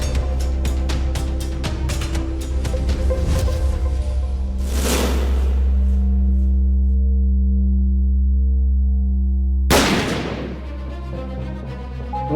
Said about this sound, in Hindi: माँ ये तो गन की आवाज है ना?